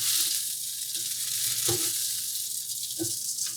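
Garlic sizzling in a pan while being stirred, with a constant bright frying hiss and several distinct utensil scrapes and knocks spaced a second or so apart, close and clear with no talking.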